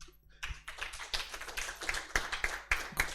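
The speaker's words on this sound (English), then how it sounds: "Could we give a better round of applause to Doctor?" Audience applause for a speaker at a conference on Islamic finance and banking in Uganda, a small group clapping, building from a few scattered claps into steady, moderately close applause.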